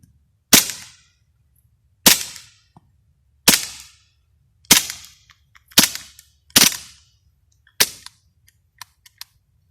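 Seven Beretta pistol shots fired without a suppressor at a shooting range, loud sharp cracks spaced about a second apart, each with a short decaying tail, followed by faint metallic clicks.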